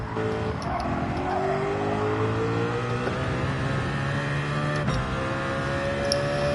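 Race car engine in the Gran Turismo 7 video game drones steadily throughout, its pitch climbing and falling with gear changes in a continuous, loud whine with no one talking.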